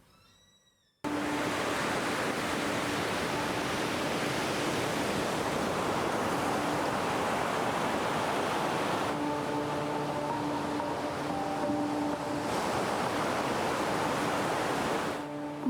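Rough sea surging onto the Uppala coastline during severe sea erosion, a steady loud wash of breaking waves that rolls on continuously after a quiet opening second, with no voices.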